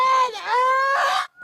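A woman screams and wails during a heated arrest confrontation with police, a long, loud, wavering cry that stays near and close, trailing off into a brief gasp at the end.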